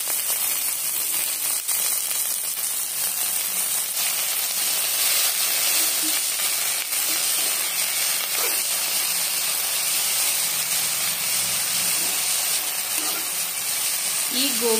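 Sorrel flowers fry in hot oil in a pan for chutney, a loud, steady, bright sizzle and hiss lasting throughout with occasional faint stirring, no talk.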